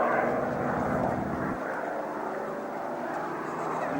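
A Messerschmitt Bf 109 fighter flies at an autumn air show at Duxford, its single piston engine a loud, steady droning roar from a distance that eases slightly partway through.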